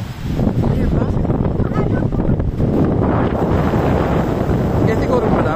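Steady wind gusting across a freshwater lake shore at Leddy Park, roaring and buffeting the microphone throughout, loud and continuous, with the rush of water beneath.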